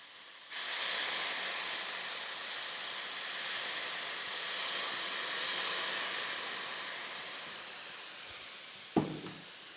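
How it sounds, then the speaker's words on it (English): Balsamic vinegar hitting a hot pan of mushrooms to deglaze it, giving a steady loud hiss and sizzle that starts abruptly and holds for several seconds before a brief clatter near the end. "the beauty of this acid is going to deglaze the bottom of this pan"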